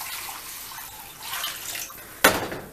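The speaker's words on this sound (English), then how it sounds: "Then you add your water." Water poured into a cooking pot of stuffed grape leaves, a steady splashing pour with a brief sharp burst near the end, moderately close and without talk.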